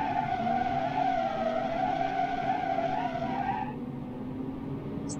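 A heavy 3.5-ton car brakes hard, its tires letting out a loud, sustained skidding squeal that holds steady for several seconds before cutting off, leaving a lower rumble of the vehicle.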